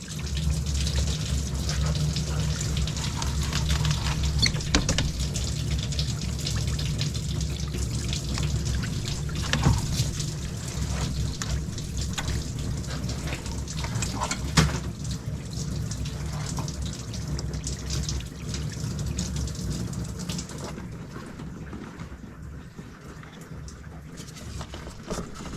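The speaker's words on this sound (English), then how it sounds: "When I disconnect this heater hose, there will be coolant that will leak out." Coolant trickles and patters steadily from a disconnected heater hose on a Mercedes Sprinter into a drain container beneath the van, a continuous close liquid stream that thins out near the end.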